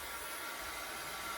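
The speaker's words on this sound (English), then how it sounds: "I've got my handy dandy heat gun tool" A heat gun blows steadily while drying thick layers of paint, a loud continuous airy roar with no pauses throughout.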